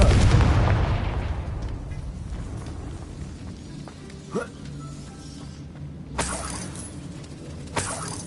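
The Confringo fire spell in Hogwarts Legacy bursts with a loud booming blast at the start that fades away, followed by a few sharper cracks and pops later on.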